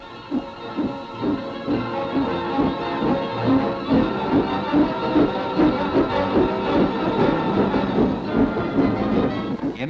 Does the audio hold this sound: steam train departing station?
yes